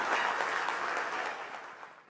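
A stand-up comedy audience applauds for comedian Pranit More, dense clapping from a crowd that is loud at first and gradually fades over a couple of seconds.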